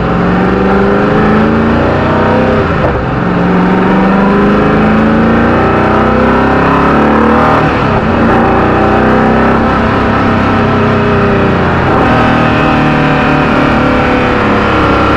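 A Koenigsegg Agera One:1 supercar on the road gives a loud, close, continuous engine roar with repeated rising and falling revs as it accelerates, with no voices over it.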